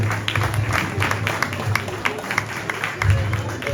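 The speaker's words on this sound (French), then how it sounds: "je vais appeler, et on peut l'applaudir, Xavier Moreau de Bélin, de SNCF Immobilier." Audience applause at an inauguration event welcoming a speaker from SNCF Immobilier, a steady wash of clapping hands filling the room for several seconds, with some murmuring underneath.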